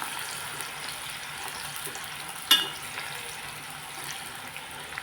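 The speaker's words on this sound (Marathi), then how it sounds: "ज्या तेलामध्ये मी सोयाबीन तळलं त्याच तेलामध्ये मी कांदेही फ्राय करून घेते" Onions frying in oil already used for soybeans, for a soybean biryani, a soft steady sizzle with one sharp clink midway, fairly quiet and without speech.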